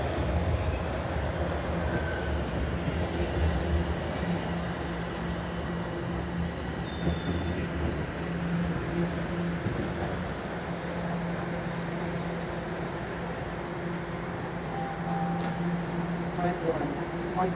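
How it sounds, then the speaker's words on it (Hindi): A metro train rumbles steadily into a station with a faint squeal of wheels, its hum filling a busy platform. "वो आ गई है मेट्रो"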